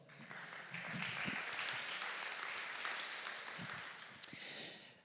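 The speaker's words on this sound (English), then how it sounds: "Give him a welcome applause, please." An audience applauds to welcome a guest speaker, Bernhard Lehner, co-founder of Startup 300, onto a conference stage: sustained, dense clapping at a steady level throughout, with a few scattered louder claps.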